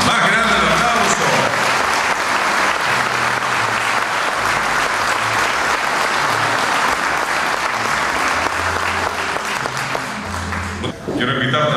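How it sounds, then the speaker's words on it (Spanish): Loud, sustained applause from an audience at an outdoor recognition ceremony held at a rodeo arena, dense clapping continuing steadily for the whole stretch with crowd noise beneath it and a brief dip near the end. "¡Más grande el aplauso!"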